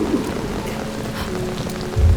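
Steady rain pours down, loud and close, as a dense, continuous patter on surfaces, with a low rumble swelling near the end.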